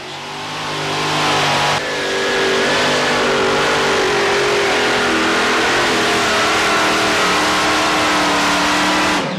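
Supercharged pulling-truck engines at a truck and tractor pull scream at full throttle in a continuous, loud, high-pitched roar that holds steady throughout, heard from a distance.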